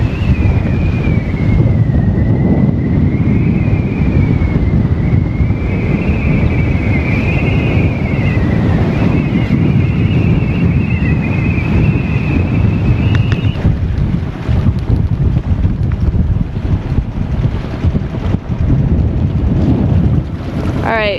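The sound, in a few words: strong wind on a sailing boat off the Australian coast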